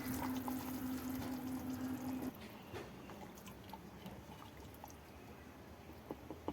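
Water from a glass is poured into a potato and curd curry cooking on a mud stove, giving a soft, continuous liquid splashing and bubbling at close range that stays fairly faint throughout.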